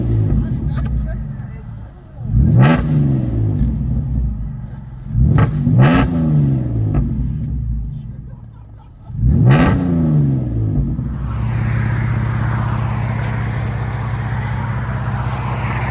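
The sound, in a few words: 2006 Cadillac CTS 3.6L V6 Magnaflow dual exhaust revving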